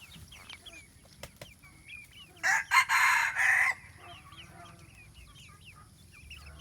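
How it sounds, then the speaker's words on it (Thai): Young chicks peep softly and steadily throughout, while a chicken crows loudly midway through. "อันนี้ลูกไก่ราวประมาณหนึ่งเดือนได้นะครับ"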